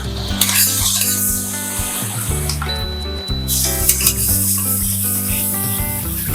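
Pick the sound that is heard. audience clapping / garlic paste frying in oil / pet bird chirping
garlic paste frying in oil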